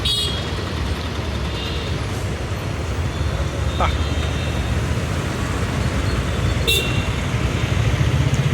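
A KSRTC bus turning out to head for Palakkad at Coimbatore's Ukkadam bus stand, with a steady low engine rumble amid busy traffic noise, a few faint horn toots and voices in the background.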